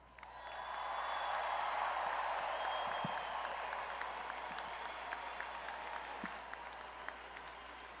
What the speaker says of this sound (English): Let's make some noise and give it up for Michael Albert Stunkard.